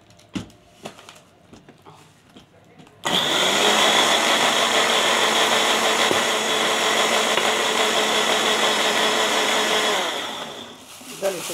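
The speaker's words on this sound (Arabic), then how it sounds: "هضربهم ضرب حلو في الخلاط زي ما انت شايفه كده" An electric blender blending mango for ice cream starts abruptly and runs steadily with a loud whirring roar for about seven seconds, then winds down.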